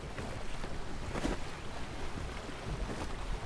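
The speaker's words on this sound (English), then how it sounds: "you guys actually hear the water now? It's going faster now." Water rushes steadily past a moving boat at sea in the video game Atlas, a continuous broadband wash with wind noise and no pauses, close and fairly loud throughout.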